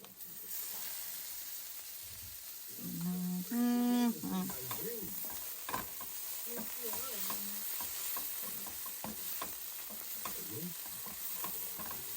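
Bitter gourd frying in a pan gives a quiet, steady sizzle, broken by the scrape and clatter of a spatula, while a voice talks in the background at times.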